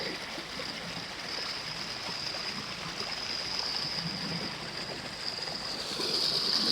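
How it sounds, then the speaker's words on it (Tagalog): Floodwater after rain rushing where a river meets the sea, a continuous broadband roar of flowing water that swells slightly toward the end, with no voices. "Tabing dagat, malakas ang baha dito."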